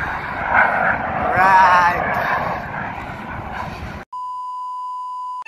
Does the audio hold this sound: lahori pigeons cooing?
no